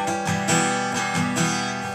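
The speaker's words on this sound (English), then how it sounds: "like, hammer off like this." Acoustic guitar notes played closely, with a finger pulled off the string in a hammer-off, so several soft plucked attacks ring into each other over a couple of seconds with no talking.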